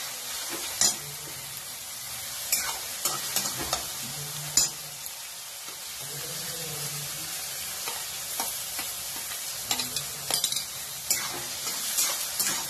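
Chopped onion and vegetables roasting in a pan for upma, a continuous sizzle with repeated spoon scrapes and occasional light clinks of metal, close up and without speech.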